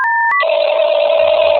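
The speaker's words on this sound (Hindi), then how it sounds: "अभी रुक, मैं लगाता हूँ फोन।" A telephone dials out with two quick beeps, then a steady tone holds for the rest of the moment, loud and clean with no voices.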